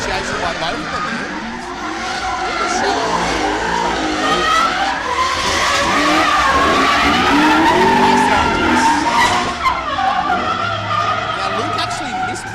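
Drift cars at an F-8 Drift Series round initiating slides together, a continuous loud screech of skidding tires over revving engines, with a commentator talking throughout.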